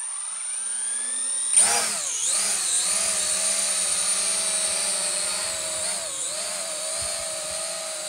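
A small 4DRC F3 quadcopter drone spins up with a sudden whine, then hovers nearby with a steady high-pitched buzz of its propellers that rises and falls slightly as it moves.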